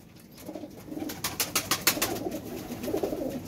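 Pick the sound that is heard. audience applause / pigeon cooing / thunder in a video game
pigeon cooing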